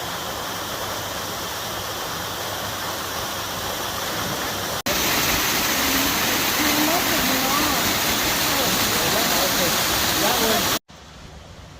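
Mill Creek waterfall at Lake Jocassee pours with a loud, constant broadband rush of falling water, heard steadily and up close, with faint voices partly buried beneath it.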